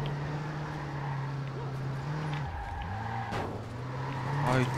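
A car in the video game Watch Dogs drives hard with a steady engine drone, then its tires skid and squeal midway before the motor picks back up, loud and close.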